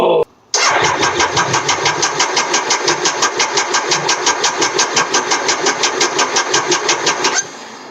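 A Triumph Daytona T595 motorcycle cranks over repeatedly on the starter, giving a fast rhythmic whirring churn of many even pulses for about seven seconds after a brief click, without catching, up close and loud.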